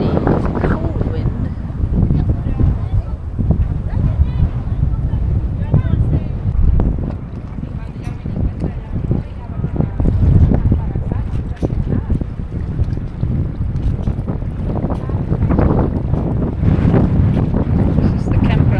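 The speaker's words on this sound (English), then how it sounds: "today it's really windy, it's a cold wind" A strong, cold wind blows at a parking spot beside a river in Puerto Saavedra, Chile, buffeting the microphone with loud, continuous low rumbling gusts. A voice talks underneath.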